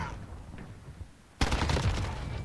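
An AN-94 rifle fires in Call of Duty: Modern Warfare: after a quiet opening, a sudden loud burst of rapid gunfire starts partway through and continues to the end.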